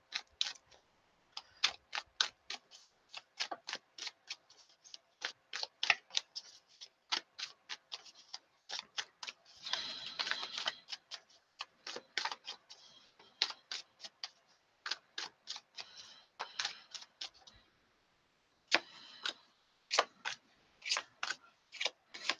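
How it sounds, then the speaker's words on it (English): Crisp, close-up card shuffling, rapid flurries of snapping clicks in repeated bursts with short gaps between them. "while I'm shuffling the cards"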